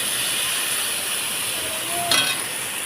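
Tomato added to onions and spices frying in a pan: a steady, broad sizzling hiss throughout, with a short louder crackle near the end.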